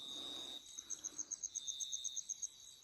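Rapid rhythmic chirping from native frogs at night, a steady high trill pulsing about twice a second, fairly faint and unbroken by voices.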